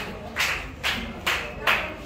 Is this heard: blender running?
no